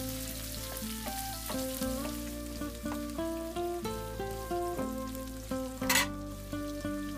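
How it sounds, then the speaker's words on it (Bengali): Chopped garlic, spring onion and green chili frying in a pan for chili chicken, a continuous close crackling sizzle with scattered pops, overlaid by background music with shifting tones. "রসুন কুচি হালকা বাদামি রং হওয়া পর্যন্ত ভেজে নিব। এরপর এতে পেঁয়াজ পাতা আর কাঁচামরিচ দিয়ে দিব।"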